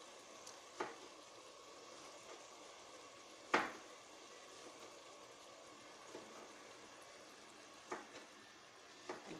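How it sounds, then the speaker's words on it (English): Minced fish and seasonings frying in a pot for Bahamian peas and grits, a soft steady sizzle with occasional louder stirring scrapes and clanks, close but quiet, with no talking. "We're frying down our ingredients in the pot."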